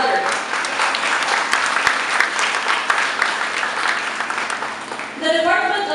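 A crowd applauds steadily with dense, continuous clapping, and a voice comes in over it near the end.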